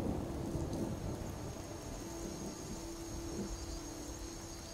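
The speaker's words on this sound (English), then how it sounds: "Raining and thunder." Steady rain with low rumbling thunder in the video game Skyrim, a continuous wash of falling water and distant rolling booms heard alone at moderate volume.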